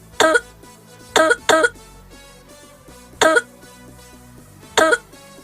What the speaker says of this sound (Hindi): तुम्हारी खांसी की वजह से मार खाते खाते बचे।